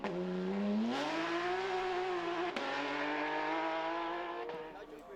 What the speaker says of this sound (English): Still a beautiful sound with the Porsche.